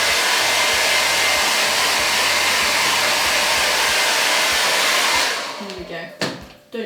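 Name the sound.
hair dryer blowing warm air on chocolate truffles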